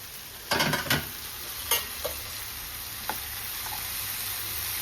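Onions and green chillies fry in a pan under a steady sizzle, with a few quick scraping stirs of a spatula near the start and fainter taps later, close up and without talk.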